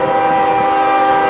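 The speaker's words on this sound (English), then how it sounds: "Here comes another train northbound on the number 2 track" A CSX northbound intermodal hotshot train on the number 2 track blares its multi-tone horn up close, a loud sustained chord over the rumble of the passing train.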